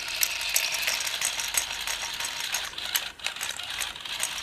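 A battery-powered Ycoo robot dog toy's internal mechanism runs with a continuous ratcheting, clicking gear rattle, close and fairly quiet, with no voices.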